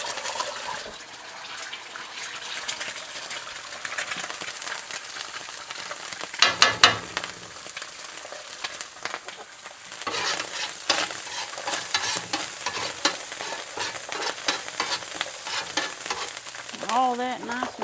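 An egg fries in a small pan that has never been used for eggs, giving a continuous close sizzle and crackle that swells and fades. A few clattering knocks come mid-way, and a brief voice-like sound is heard near the end.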